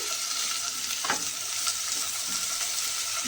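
Pieces of bitter gourd sizzle steadily in a hot pan while a spatula stirs them, with a few soft scraping knocks rising over the continuous frying hiss.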